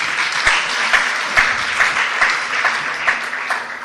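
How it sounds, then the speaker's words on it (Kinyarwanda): A church congregation claps together in a steady, rhythmic applause, moderately loud and close, continuing evenly for a few seconds with no talk over it. "Mukomereye se amashyi"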